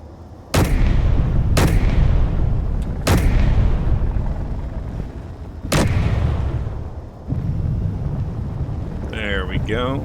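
In Space Engineers, four loud, sharp single gunshots crack out at uneven intervals over a steady low hum. A brief voice comes in near the end.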